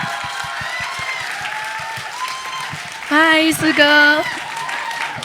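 Audience clapping welcoming a guest on stage at a charity album concert: a rhythmic, moderately loud patter of hands running beneath people talking and exchanging greetings.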